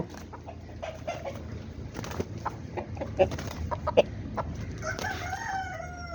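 A female aseel hen clucks close by in a series of short calls among scattered knocks and scuffles, ending in a longer drawn-out call.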